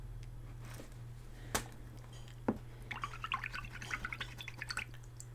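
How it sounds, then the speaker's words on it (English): Spilled water dripping off a desk during an acryla gouache painting session, a quick run of small, light drips pattering close by, with a couple of isolated drops before, over a steady low hum. "Throw water all over my desk."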